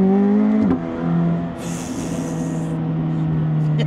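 A car engine revving hard in second gear up to about 5,000 rpm, a loud sustained droning note that steps after a shift-like dip and holds strong, with a brief hiss partway through.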